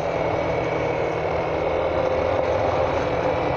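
A small 50cc motorcycle engine idles steadily, a constant low buzzing hum close by with a faint even hum and no talking for a few seconds.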